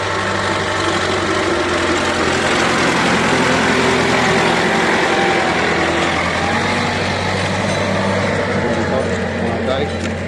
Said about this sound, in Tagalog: Yung tractor kasi maingay talaga yung makina niya. Malaking makina yan kaya maingay siya.